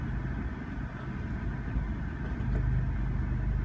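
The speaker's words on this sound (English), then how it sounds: "We just hit the start stop engine button and away we go." Abarth 124 Spider engine running at a steady idle after a keyless push-button start, a continuous low rumble filling the cabin with no talk over it.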